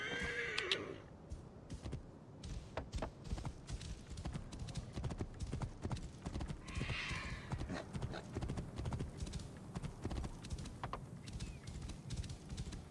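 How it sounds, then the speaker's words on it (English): Horse in Assassin's Creed Origins galloping with a continuous rapid clip-clop of hooves, opening with a neigh and another whinny midway, fairly close and steady. "Get a horse."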